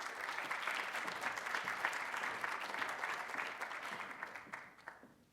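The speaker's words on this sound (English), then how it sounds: "Keep clapping." Sustained audience clapping at a community college State of the College event, dense and steady for several seconds before tapering off near the end, no talk over it.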